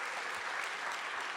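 Town hall audience applauding steadily for over a second, a dense, even wash of clapping from a large crowd with no voices standing out.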